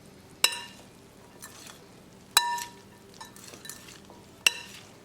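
Carrots, green chili, celery, coriander, corn, peas and garbanzo beans get mixed in a bowl, three sharp spoon clinks against the bowl spread a couple of seconds apart, with soft shuffling stirs in between, fairly quiet.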